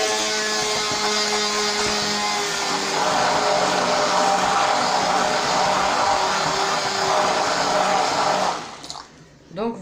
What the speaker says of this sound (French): au lieu de mélanger tout ça au fouet, donc mixer un petit peu avec le robot